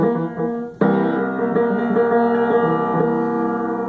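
A sustained piano chord is struck and shaken in a rapid tremolo, ringing steadily and loud with no voice.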